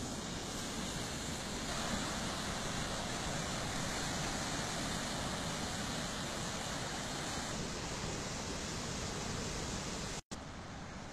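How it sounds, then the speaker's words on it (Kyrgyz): Water flowing at the bottom of a channel near a village, a broad steady rushing noise close to the microphone, continuous and dense with a brief cut near the end, no voices. "Суу анын түбүндө агып атат."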